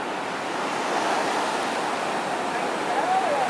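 Steady wash of ocean surf along the beach near Daytona Beach pier, a continuous broad hiss of breaking waves with some wind noise, fairly loud and unbroken.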